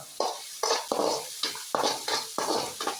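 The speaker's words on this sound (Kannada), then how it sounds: "ಒಂದು ದೊಡ್ಡ ಸೈಜ್ ಈರುಳ್ಳಿ ಸಣ್ಣಗೆ ಕಟ್ ಮಾಡಿ ಚೆನ್ನಾಗಿ ಫ್ರೈ ಮಾಡುವ." Finely chopped onion sizzling in oil with cinnamon sticks and bay leaf, stirred by a spoon in repeated scraping strokes against the pan, the steady sizzle underneath each close, regular stir.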